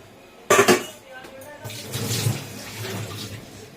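Water poured into a pot of fried onions for chicken biryani, a sharp metallic clatter followed by a splashing, sizzling rush that settles into a steady hiss.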